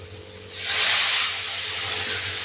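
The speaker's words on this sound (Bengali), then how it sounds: "একটু নেড়ে চেড়ে আমি দেবো টমেটো কুচিগুলো সামান্য পরিমাণে জল দিয়ে দেবো" Water poured onto chopped tomatoes and turmeric frying in a pan for a spicy Bombay duck fish curry sets off a sudden loud hiss. The hiss swells, then settles into a steady, close steam with no speech.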